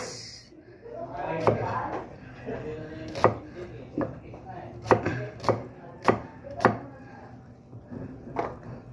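Knife chopping an onion on a cutting board for a Christmas home-cooked dish, a series of sharp, irregular thuds close by, with someone speaking in between.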